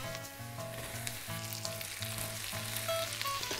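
Steady sizzling of cabbage frying in a hot pan, with soft crackles throughout and no voices.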